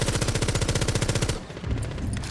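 Rapid automatic gunfire sprays through a wall in Rainbow Six Siege, a loud, close burst of evenly spaced shots lasting over a second, then rattling impacts and debris.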